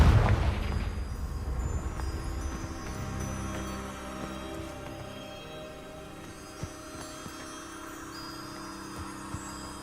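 A Confringo fire spell exploding in Hogwarts Legacy: a loud booming burst at the start that rolls into a long fading rumble and hum, with a couple of faint pops later.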